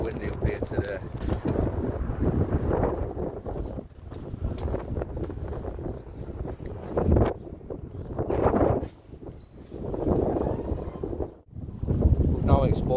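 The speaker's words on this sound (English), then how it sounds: "Very windy up here today." Strong gusting wind on a rooftop buffets the microphone in heavy, uneven bursts, rising and falling, with a few faint sounds mixed underneath.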